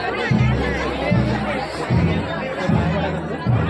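Dense crowd chatter at a packed temple gathering celebrating a goddess meeting, a continuous babble of many voices close by with occasional louder low bursts, steady throughout.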